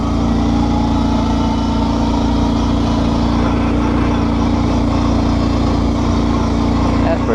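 A Kawasaki Brute Force 650 ATV engine drones steadily and loudly at an off-road park, its constant close-up rumble unbroken throughout.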